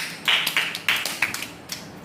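Children clapping their hands in a classroom, a short run of irregular, uneven claps from a group lasting about two seconds.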